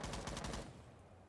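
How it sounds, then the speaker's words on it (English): Rapid bursts of automatic gunfire from a floor below in a Rainbow Six Siege pro league match, loud and dense for about half a second before cutting off. "We already hear a little bit of gunfire going on downstairs"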